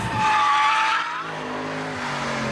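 Mercedes C63 AMG drifting sideways, a loud tire squeal that rises and fades over about a second, then engine drone and road noise continuing on its own.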